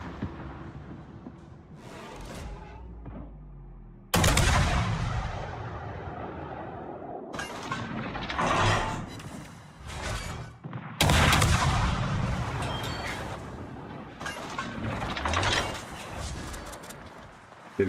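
Warship guns firing in World of Warships: heavy, abrupt booming salvos, two especially loud blasts several seconds apart, each trailing into rolling rumble and debris-like clatter, with quieter shots between.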